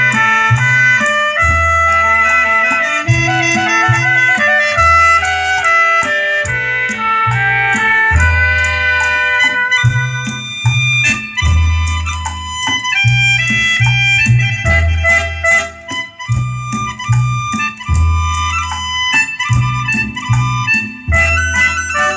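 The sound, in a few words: music played through Yamaha A-520 amplifier with tone bypass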